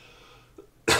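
A soft click from near silence, then one loud, sharp cough bursts out close by at the very end.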